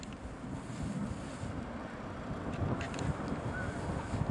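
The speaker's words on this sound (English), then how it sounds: "Oh, here comes the wind." Winter wind blows outdoors, a low, rough rumble buffeting the microphone that swells slightly over a few seconds, with no talk.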